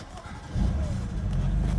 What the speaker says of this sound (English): And if I start this car up,